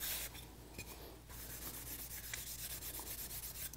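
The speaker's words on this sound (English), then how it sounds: "It's basically it's kind of just like a piece of sandpaper that's really fine grit." Fine-grit sandpaper rubs steadily over a wooden spoon in quick, continuous back-and-forth strokes, close up and fairly quiet, with no talking.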